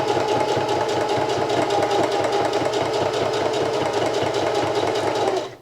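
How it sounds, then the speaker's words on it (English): A home sewing machine stitches steadily along a fabric edge, producing a close, even, rapid mechanical chatter that runs without a break and stops at the end. "And then I'm gonna sew along that edge all the way to the end of the opening."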